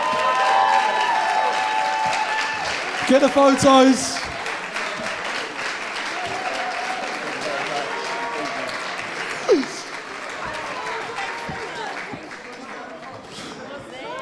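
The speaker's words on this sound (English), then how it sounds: "this year's top SDR, massive round of applause for Patrick" Sustained applause from an audience at a sales awards ceremony as the year's top SDR winner is honored, steady broadband clapping across the whole span with a few cheers and a brief voice near the end.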